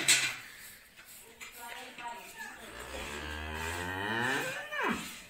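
A cow moos during hand milking in a village cowshed, one long drawn-out call that rises and falls over several seconds, close and fairly loud.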